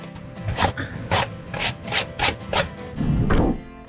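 Items are brushed off outdoors near sand, with about eight rhythmic scraping, rubbing strokes that come close and fairly loud, ending in a longer, rougher scrub.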